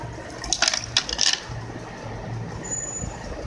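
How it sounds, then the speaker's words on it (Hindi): Ice cubes clink and rattle as they drop into a bowl of sugared alocha sharbat mixture, a few bright knocks over a steady low background hum. "इसके साथ बर्फ़ के क्यूब्स ऐड कर रही हूँ मैं"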